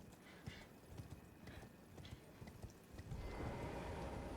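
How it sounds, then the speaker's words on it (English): Horse hooves clip-clopping in the Convergence Mod video game, a quick run of faint hoof beats followed by a louder rustling surge near the end. "you knock the horse in the butt, and it goes scampering forward"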